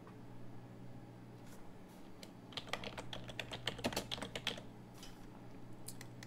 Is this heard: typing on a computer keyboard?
yes